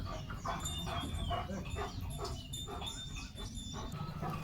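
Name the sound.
German Shepherd dog barking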